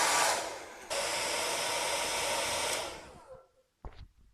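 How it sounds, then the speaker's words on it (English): A hairdryer runs with a loud, steady blowing roar, briefly cuts and restarts, then winds down and stops, followed by a couple of faint knocks. "So, we've got our hairdryer now. It's ready to go."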